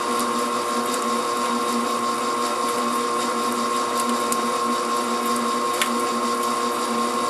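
A mixing machine whips a shea butter soufflé with a steady, loud motor whine and a constant tonal hum, running alone without pause.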